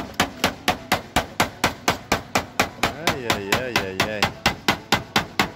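Sheet metal on a roof valley seam hammered in a steady, rapid rhythm, about four close, ringing blows a second throughout, with a brief voiced exclamation in the middle.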